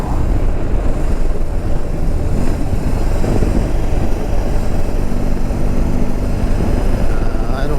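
A BMW R18 B touring motorcycle cruising in second gear at about 50 mph, its engine drone blended with heavy buffeting wind noise, loud and continuous.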